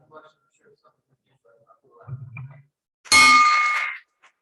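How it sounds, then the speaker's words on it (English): A hand bell rung once at a Rotary Club meeting, giving a loud, bright clang that rings out for about a second and fades, with faint room murmur and a brief voice before it. "I'd like to ring the bell for Evan"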